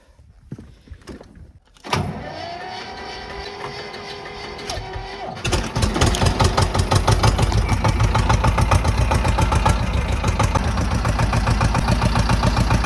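A 40-year-old tractor's diesel engine, just fitted with an oil filter in place of its centrifuge, cranks with the starter, then catches and runs loud and close with a steady rapid knocking beat.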